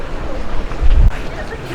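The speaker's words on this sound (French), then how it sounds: "Les belles vagues." Ocean waves break at the Meoto Iwa sacred rocks, giving a steady broadband wash of surf with a heavier low rumble near the middle as a wave hits, mixed with some wind noise.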